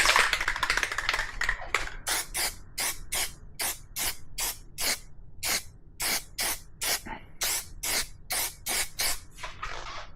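Aerosol spray can applying a coat in a long series of short, regular hissing bursts, each about a third of a second, close and fairly loud, with no talking.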